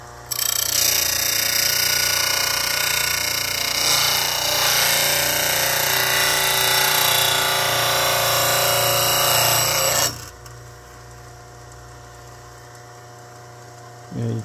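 A slow speed grinder sharpens a lathe gouge, a loud, steady high-pitched grinding whine with a harsh rasp that runs for about ten seconds, then cuts off to a quieter winding-down hum with a brief scrape at the end.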